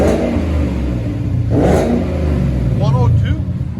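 A 2020 Ford Mustang 5.0 GT with aftermarket exhaust revs close by, a loud rumbling surge swelling around the middle, with speech-like voices and clatter mixed in.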